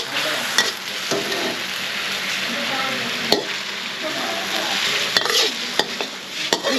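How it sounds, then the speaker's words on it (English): Morning glory greens stir-fried vegan Thai style in a hot pan, with a steady loud sizzle and scraping stirring strokes throughout, close up and uninterrupted. "when we stir fry morning glory, we don't want to do too long"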